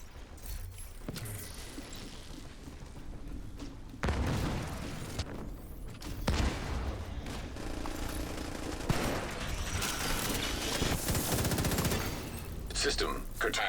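Submachine gun fire in a first-person shooter game, several rapid bursts and volleys with loud crackling impacts scattered across the stretch, heard over game ambience.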